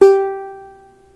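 A single plucked string rings out with one clear sustained tone, bright at the attack and then slowly fading over about a second, alone and close.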